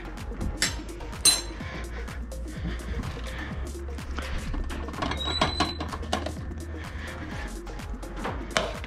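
Spoon clinking and scraping against a bowl while white sauce is mixed, a run of bright, close taps and rattles at an uneven pace.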